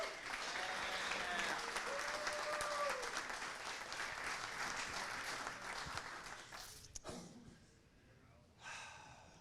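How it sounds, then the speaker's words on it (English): An audience at a programming conference applauds a speaker, the dense clapping swelling then thinning out after several seconds, with a few breaths and a short burst of noise near the end. "Everybody give a round of applause to Chris."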